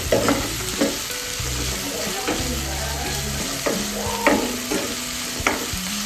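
Onions fry in a pan for a mung dal curry, a constant sizzle broken by repeated scraping and stirring strokes, close and fairly loud with no talk.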